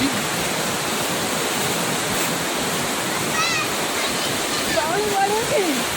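Constant roaring rush of a waterfall fills the scene, loud and steady, with faint voices and a few bird-like chirps over it.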